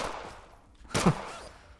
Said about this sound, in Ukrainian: А, дивіться, він вже стріляє.